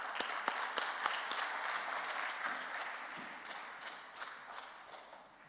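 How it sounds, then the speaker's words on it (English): A conference audience at a 2018 UN DESA symposium plenary session applauds steadily, a dense patter of clapping with a few sharper claps near the start, fading slightly toward the end. "Shall we welcome him with a big round of applause?"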